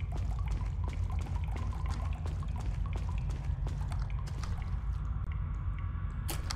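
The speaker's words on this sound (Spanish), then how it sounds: "esto está lleno de agua, tengo que vaciarlo entonces" Water pours and drains steadily in Resident Evil 4, a continuous gushing flow with scattered drips and sharp clicks over a low rumble, sustained for several seconds without speech.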